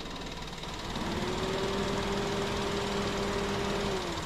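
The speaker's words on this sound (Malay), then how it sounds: "boleh dengar radiator fan tengah on lah" A car's electric radiator fan motor, switched on through an OBD2 scan tool, whirs steadily at close range over a running engine, its tone rising as it spins up and holding for several seconds.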